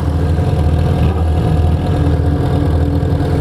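A Yamaha XJ6 motorcycle fitted with an aftermarket 4-into-1 exhaust idles close by, a loud, steady low rumble with a fast, even pulse and no revving.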